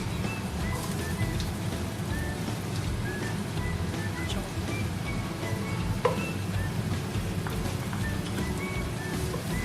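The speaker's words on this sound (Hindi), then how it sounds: "तो अब हम इसमें डालते हैं कटी हुई 1 प्याली प्याज" Mutton qeema sizzles in its released oil as chopped onion goes in, a dense steady crackle with a soft low rumble beneath, close and even throughout with no voices.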